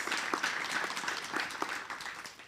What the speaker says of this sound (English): And applause to the Deputy Minister as well